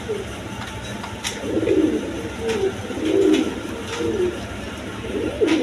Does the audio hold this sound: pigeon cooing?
yes